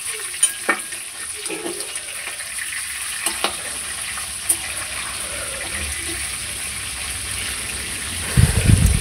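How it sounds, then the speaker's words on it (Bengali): Pieces of fish frying in hot oil in a pan, a continuous bubbling sizzle with a few sharp spatter pops, and louder clattering stirring or turning near the end. "এখানে ফুটছে মাছটা"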